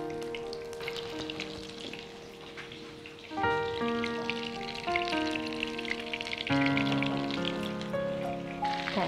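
Food dipped in egg yolk fries in ghee, giving a steady sizzle under loud background music throughout.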